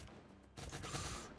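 Bursts of team gunfire in the video game Cyber Hunter, a dense, sustained volley that starts abruptly partway through and continues loud and crackling to the end, with no voices.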